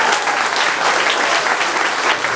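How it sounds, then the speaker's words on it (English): An audience gives the band a big round of applause, and the dense, even clapping holds at full strength for the whole stretch. "How about a big round of applause to the great band?"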